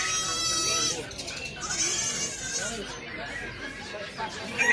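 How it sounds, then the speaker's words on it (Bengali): Goats bleating at a Kuwait animal market, several high wavering cries rising over a busy background of crowd chatter and nearby talking, the calls close and repeated across the scene. "ছাগল দেখেন, ছাগল।"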